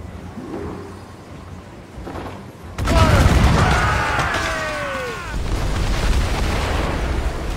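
Mortar fire in the naval game Assassin's Creed Rogue during a ship ambush: a sudden loud boom at about three seconds opens a sustained roar with whistling, falling tones, giving way to a continuing rumble of battle noise.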